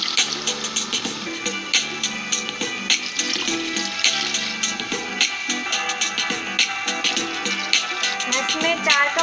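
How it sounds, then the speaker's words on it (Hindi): Water is poured into a pot of chicken pulao (yakhni pulao) made with boneless chicken, giving a steady splashing, gurgling stream with small bursts throughout, close by and fairly loud. "अब इसमें 4 कप पानी डाल दीजिए।"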